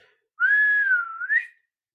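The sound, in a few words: person whistling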